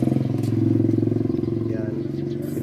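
A washing machine motor hums steadily in a loud, pulsing drone after the timer is switched on; the motor has a replaced capacitor and hums without spinning, and voices talk over it.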